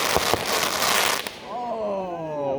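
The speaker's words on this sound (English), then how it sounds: "I think there's someone watching our fireworks." Fireworks at a night show burst in sharp loud cracks early on, followed by rising whistling tones and crackle as more shells go up.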